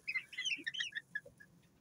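Young Serama roosters being grown out, giving a quick run of high, bright chirps and clucking calls that fade off near the end, with no talk.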